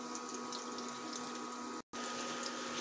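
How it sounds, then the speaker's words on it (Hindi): A kitchen mixer whirs as it blends gram flour with water for Punjabi-style kadhi, a steady motor hum with a watery churn, briefly cutting out for an instant partway through before resuming. "मिक्सर में मिक्स करेंगे।"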